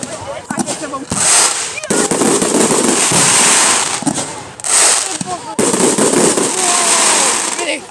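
Bonfire night fireworks in 2025 burst and crackle in rapid, loud volleys with brief pauses between barrages, nearby and dense, while people call out over the noise.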